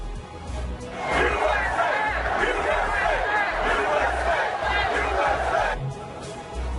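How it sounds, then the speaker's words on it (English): Large stadium crowd at an NFL game in Wisconsin roaring and chanting USA, a loud sustained wall of voices swelling after a quieter opening second and holding steady before easing near the end. "A chant of USA also barreling through the stadium up there in Wisconsin"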